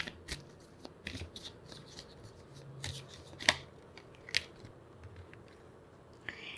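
A tarot card is drawn from the deck, giving a few quiet, scattered papery snaps and flicks over a soft background.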